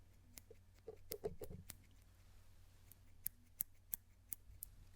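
Everyday scissors snip in short, sharp bursts, a few quick cuts clustered early then several crisp isolated snips later, close and quiet in an otherwise hushed ASMR setting.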